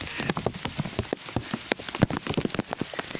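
Rain patters down outdoors while people play in it, a dense run of close droplet hits on surfaces with uneven, busy rhythm and no speech.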